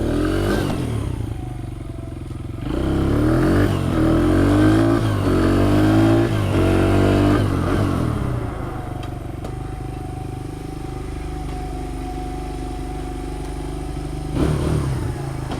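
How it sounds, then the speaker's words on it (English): A Honda CRF100 dirt bike ridden and revved hard for a few seconds, its engine rising and falling in pitch before settling into a steady idle, close by and loud, with no talking. "We'll ride it around a little, warm it up a little quicker."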